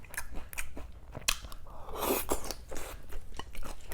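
Crispy fried sweet and sour pork coated in sauce, bitten and chewed up close, with repeated loud crunches and wet mastication in an irregular rhythm.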